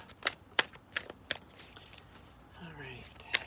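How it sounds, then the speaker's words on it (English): Tarot cards shuffled by hand in several quick crisp riffles, close and fairly quiet, with a brief faint voice near the end. "Let me shuffle one more time."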